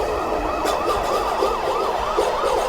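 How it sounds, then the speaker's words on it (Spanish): Wailing emergency sirens at night, rising and falling in a steady repeating cycle, loud and continuous with a faint background hum and no voices. "Esa noche sonaron las sirenas"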